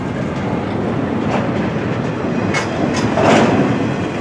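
A CSX freight train of container flatcars with single-stack loads rolls past close by, with a steady rumble, rhythmic wheel clicks over rail joints and brief metallic squeals.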